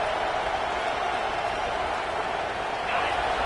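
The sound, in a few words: home crowd cheering at Air Force football game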